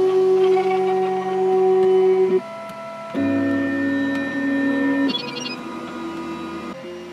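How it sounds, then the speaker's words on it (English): A 3D printer runs close by, its stepper motors whining in sustained tones that jump in pitch as each movement changes. "if you can actually hear anything for the printer"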